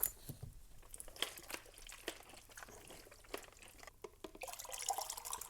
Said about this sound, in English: we'll stop now with just normal water. That'll stop the development. And wash all that developer away.